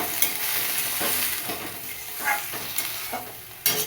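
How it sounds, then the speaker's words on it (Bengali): Pointed gourd peels frying in a pan with turmeric, stirred so a steady sizzle runs beneath repeated scraping strokes of a spatula, loud and close, with no talking. "নাড়াচাড়া করে একটু জল দিয়ে দিলাম খোসাগুলো যাতে ভালো করে সেদ্ধ হয়"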